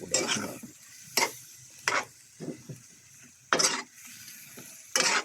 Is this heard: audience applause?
no